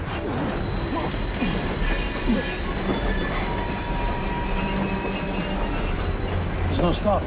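A moving train rumbles steadily with metallic wheel squeals and rhythmic clatter, while voices speak over it.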